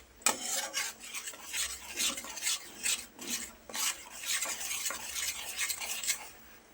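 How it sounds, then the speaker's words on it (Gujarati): Flour for sukhdi is stirred while roasting over a low flame in a pan, giving repeated close scraping strokes of a spoon against the pan in an uneven rhythm with a faint sizzle. "લોટ તળિયે બેસે નહીં એ રીતે સરસ શેકાય એટલે ગેસની ફ્લેમને સ્લો રાખવાની છે"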